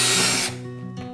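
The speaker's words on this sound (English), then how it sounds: "Put a towel down for some stability so I don't drill through my table." A power drill bores a drainage hole through a recycled plastic container resting on a towel, a loud steady whir for about half a second that then cuts off, leaving a lower fading hum.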